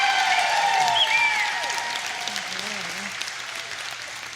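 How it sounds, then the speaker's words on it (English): Comedy show audience applauding for Jan Wiener, a fading wash of claps that trails off over a few seconds while whistled or sung tones and a brief voice ride on top. "Give a round of applause for Jan Wiener."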